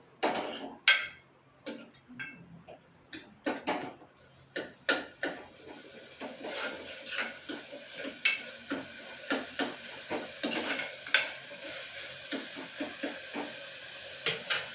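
Spices roasting in a pan for a pea curry, stirred steadily: a quiet hiss of frying under repeated scraping, tapping clicks of a utensil against the pan, irregular but frequent throughout.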